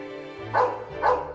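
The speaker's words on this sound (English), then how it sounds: "our stupid neighbor's dog barks 24/7" A cartoon dog barks twice in a row, two loud, close yaps spaced about half a second apart, with no talking over them.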